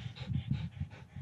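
A dog pants quickly and rhythmically during a rest stop while climbing Colorado 14ers, with short, close, fairly loud breaths repeating about every quarter second.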